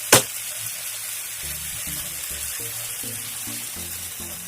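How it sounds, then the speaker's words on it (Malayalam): Water goes into prawn masala cooking in a pan, a sharp splash at the start that settles into a low, steady bubbling and sizzle, with no voices. "ഇനി നമുക്ക് ഇതിലേക്ക് കുറച്ച് വെള്ളം ചേർത്ത് കൊടുക്കാം"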